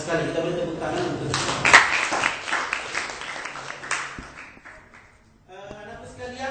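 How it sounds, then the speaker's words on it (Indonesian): A classroom of pupils gives a short round of applause in a science lesson: a burst of quick, close clapping, mixed with speech before and after. "kita beri tepuk tangan untuk"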